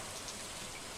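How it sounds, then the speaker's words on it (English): Green rain falls in the Stardew Valley video game, a steady, even hiss of rainfall with no other sounds. "seeing that it is the first time for a majority of the residents, including me, to deal with this green rain"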